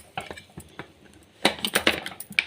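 A pressure cooker lid being shut over a pot of freshly mixed tomato bath: a quiet scrape, then a cluster of sharp, close metallic clanks and rattles in quick succession.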